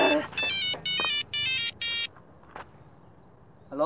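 Phone ringtone in a Sundanese comedy sketch, four loud regular bursts of a bright electronic melody with short gaps between, then a quiet pause and a faint voice before rising noise at the end.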